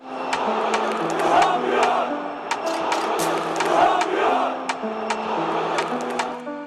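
Ordu Spor football supporters chant together in the Yeni Ordu Stadium in Ordu, a large crowd singing in steady rhythmic unison with sharp accented claps or shouts recurring throughout, loud and sustained.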